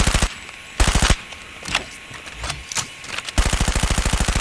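Rapid bursts of submachine gun fire in the mobile shooter COD Mobile, a fast-firing weapon with no recoil, loud and close, several short volleys separated by brief gaps with faint game effects between them.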